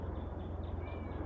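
A Ragdoll cat meows several times outdoors, with thin, wavering cries over a steady low background hum and no talking.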